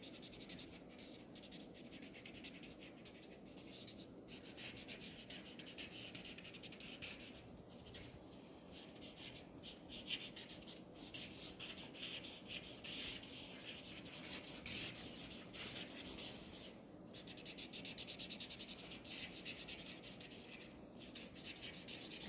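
Pencil or pen scribbling on paper in a relaxed drawing session, a steady continuous scratchy rubbing with brief pauses, close and fairly quiet, alone with no talk.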